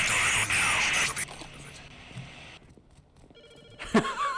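A telephone rings for an incoming call inside a game, a bright electronic trill repeating at moderate volume, followed by quieter clicks and a short tonal beep pattern amid faint background noise.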